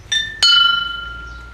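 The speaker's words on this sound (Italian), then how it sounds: "dare il tocco della campana per segnare l'inizio della serata" A small ceremonial bell rung to open a club evening: two bright strikes in quick succession, the second louder, leaving a clear metallic ring that slowly fades.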